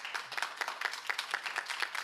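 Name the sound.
audience clapping at a school board meeting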